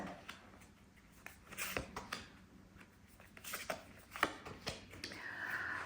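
Soft riffling and slapping of playing cards being shuffled, quiet and close, in irregular bursts with small taps between them.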